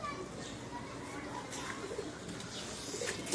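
Soft pigeon coos sound amid a busy background of chatter and children's voices, fairly faint throughout.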